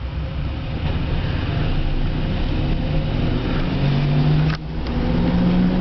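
An electric car's rebuilt motor under hard acceleration, heard from inside as a continuous road and drivetrain rumble with a whine rising in pitch, briefly dipping midway before climbing again.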